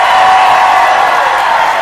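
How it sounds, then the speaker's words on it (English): Loud, steady applause from an audience with some cheering, filling the short moment without a break and with no talk over it. "Give her a big round of applause"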